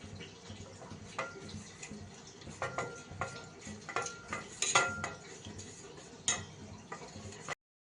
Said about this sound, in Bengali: এবার এটার মধ্যে অল্প পরিমাণ জল দিয়ে একটা পাতলা ব্যাটার তৈরি করে